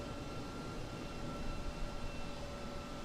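A TWA MD-11 jet engine in Microsoft Flight Simulator roars as a steady, loud broadband rumble that holds evenly throughout with slight swells, no voices present.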